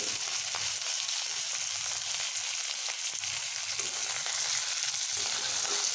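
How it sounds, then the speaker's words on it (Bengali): Grated ginger and chopped tomatoes fry in a pan for a pumpkin dish, a steady, close, continuous sizzle of hot oil with faint low scraping of stirring underneath, no voices. "এইবার আর কিছুক্ষণ আদা ওই টমেটোগুলোকে এইভাবে আমি একটু ভেজে নেব"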